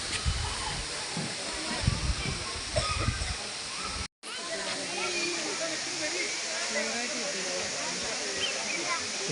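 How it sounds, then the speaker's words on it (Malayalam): Steady broadband rush of the Thusharagiri waterfall in summer with low water flow, constant and fairly close, with a brief dropout midway and low rumbling handling noise early on. "മനോഹരമായൊരു വെള്ളച്ചാട്ടം തന്നെയാണ് ആണിത്"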